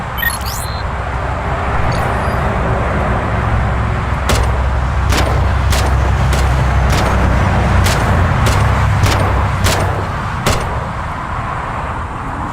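About ten sharp gunshots ring out from around four seconds onward in police dash camera footage of an officer shooting on a highway, irregularly spaced over a constant low engine rumble.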